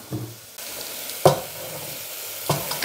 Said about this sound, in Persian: میذاریم که با همدیگه یه کوچولو تفت بخوره